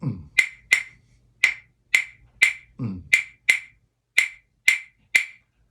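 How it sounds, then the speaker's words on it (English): A 2-3 clave rhythm clicked out on sharp, bright wooden strikes, two hits followed by three in a steady repeating cycle, close and dry with faint low knocks in between. "they flipped the clave around and it became a 2-3 clave"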